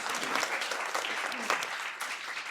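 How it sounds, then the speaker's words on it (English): An audience applauds steadily at a community political gathering, a dense, even wash of clapping from many hands that holds at a constant level throughout, with no voices rising above it. "give yourselves a round of applause"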